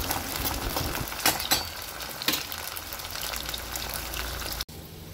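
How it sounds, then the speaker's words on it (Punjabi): Taro root (arbi) fries in hot oil with a continuous close sizzle and a few sharper crackles and pops. It cuts suddenly to a quieter hiss near the end. "ਸਾਰੀ ਅਰਬੀ ਆਪਾਂ ਇਹਦੇ ਵਿੱਚ ਤਲ ਲੈਣੀ ਹੈ।"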